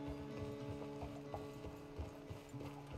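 A horse's hooves clip-clop in a steady walking rhythm in the Red Dead Redemption 2 prologue, with faint mechanical creaks and tack sounds, moderately close and fairly quiet, with no talking over it.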